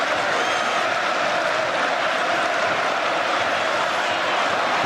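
A large football stadium crowd at Arsenal versus Manchester United in the English league sends up a steady, dense roar and murmur, continuous and far-reaching, with no single voice standing out.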